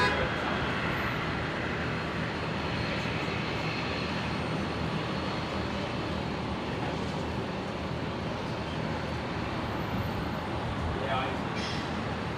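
A jet or turboprop departing Brisbane Airport roars in a broad, steady rumble that holds at a moderate distance, with a voice talking faintly over it.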